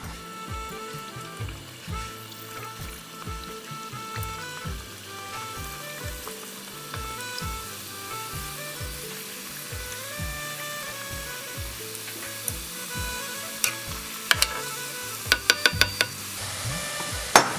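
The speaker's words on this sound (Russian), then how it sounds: "Сейчас будем обжаривать самосы" Samosas deep frying in hot oil give a steady, close bubbling sizzle throughout, with a few sharper pops and crackles toward the end.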